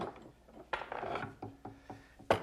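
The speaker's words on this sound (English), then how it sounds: "now that the glue is completely dry on my top blank, I can unclamp it." A woodworking clamp being loosened and released from a glued wooden candle-stand top blank, with close ratcheting clicks, woody knocks and a scraping slide, then a final sharp clack.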